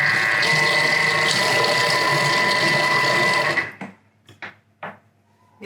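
A food processor whirs steadily while mixing a Biscoff mixture with vanilla, loud and close for about three and a half seconds. It then stops abruptly and a few short bumps and clatters follow.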